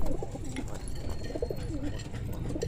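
Ghagra breed pigeons coo close by, soft repeated low cooing calls over a constant background rumble.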